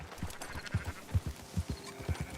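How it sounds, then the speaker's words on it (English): Sheep bleating in the video game Red Dead Redemption 2, a flock giving repeated short low bleats in quick succession, close and moderately loud, with faint hoof clops mixed in. "Marston, why don't you leave the sheep to me?"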